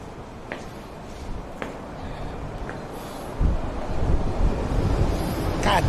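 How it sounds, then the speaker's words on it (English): Strong wind buffets the microphone outdoors, a steady rushing roar that grows heavier in the second half, with a few faint distant squeals. "it's windy as shit today"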